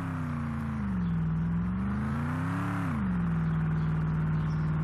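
A car in the Roblox Ultimate Driving video game accelerates from a standstill toward full speed, its steady engine drone rising in pitch, dipping briefly at a gear change near three seconds, then holding a constant loud whine alone.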